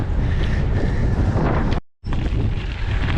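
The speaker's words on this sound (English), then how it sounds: "It's quite a windy day" Gusty wind buffets the microphone on a windy day outdoors by a river, a loud roaring rush that cuts out briefly before surging back.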